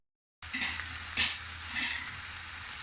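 Steady sizzle of peppers frying in a pan with a few scraping stirs and light utensil clinks; no voices.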